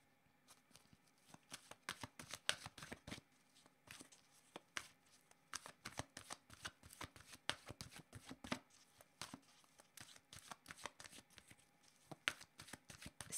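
Tarot cards are shuffled by hand in quick, irregular bursts of crisp riffling and slapping, close and quiet, continuing for several seconds with short pauses between runs.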